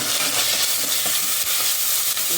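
Ginger paste with coriander powder, salt and turmeric fries in a pan, giving a constant close hissing sizzle with light stirring scrapes and no voices.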